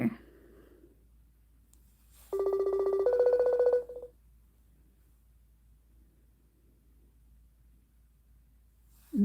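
A short run of telephone dialing tones, a few steady beeps at two pitches lasting about two seconds, set in near silence with faint voice fragments at the start and end.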